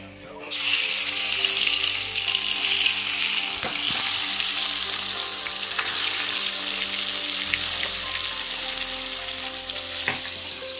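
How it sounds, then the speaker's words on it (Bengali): Pieces of katla fish fry in hot oil in a pan, giving a loud, steady sizzle and crackle that starts abruptly and holds for about ten seconds, with a few clinks and light stirring noises partway through. "আমার তেলটা গরম হয়ে গেছে, এবার আমি মাছগুলো দিয়ে দেবো।"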